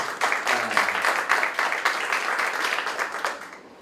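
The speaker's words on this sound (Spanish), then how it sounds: "también merece su aplauso" An audience at a procedural law symposium breaks into sustained applause for a university director, a thick wash of many hands clapping evenly before fading out at the end.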